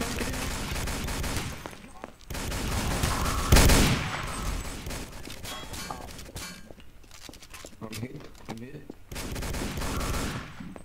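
Rapid bursts of gunfire in a video game, loud and close, with clustered shots and a heavy blast near the middle, mixed with footsteps and game ambience.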